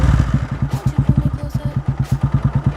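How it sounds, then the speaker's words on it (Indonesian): A 225 cc Scorpio motorcycle engine idling with a classic-type exhaust, a rapid, even chugging of deep pops, close and loud. "Kita dengar suaranya kalau Scorpio dengan cc 225 cc ini pakai knalpot tipe klasik"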